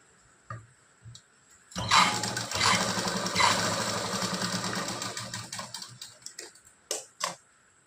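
A sewing machine stitches along a fabric edge during blouse-making, a few isolated clicks giving way to a steady run of rapid mechanical stitching for several seconds, then stopping with a couple of trailing taps.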